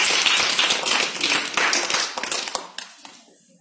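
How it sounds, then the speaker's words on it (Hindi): A school audience at a quiz event claps together, a loud burst of many hands that thins out into a few scattered claps and fades over several seconds. "इनके लिए ताली बजाइए।"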